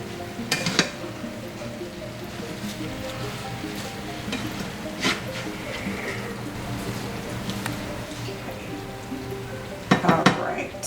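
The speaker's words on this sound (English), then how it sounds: "Now that I've added all the vegetables, I'm going to toss it up" Vegetables sizzle steadily in a hot pan as they are tossed, with scraping and clattering bursts from the utensils and a louder rattle near the end, while a person speaks intermittently over the cooking.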